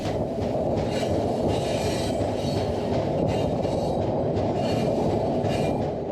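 A train rolls past at a military checkpoint in the Mexican desert, a steady loud rumble of wheels on rails with rhythmic clickety-clack and faint squeals, no talk.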